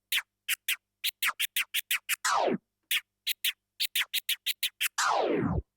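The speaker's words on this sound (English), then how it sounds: "We've covered the chirp scratch" Rapid bursts of choppy DJ chirp scratching on a turntable, clipped short stutters building into a descending swooping scratch, repeated twice, loud and without voices.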